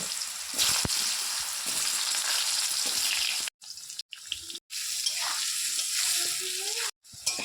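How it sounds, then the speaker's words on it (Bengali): Potatoes coated in salt and turmeric sizzle in hot oil with a moderate bubbling hiss, interrupted by a few short silent gaps. "এই তেলেই আলুগুলো লবণ হলুদ দিয়ে ভেজে নেব।"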